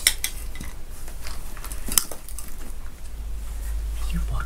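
A metal spoon clinks and scrapes against a cooking pan holding raspberries for homemade lollipops, with several sharp, close knocks spread over a few seconds.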